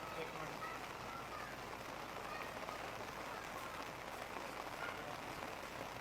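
Steady rain pours over a flooded city street, a dense, even hiss that runs unbroken throughout without pause.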